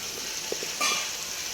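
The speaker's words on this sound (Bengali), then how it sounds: "এইভাবে কিছুক্ষণ মাংসটা ভালোভাবে কষিয়ে নিয়ে" Chicken pieces fry in a pan with a steady sizzle, broken by a few soft scrapes and taps as they are stirred, and a brief louder surge midway.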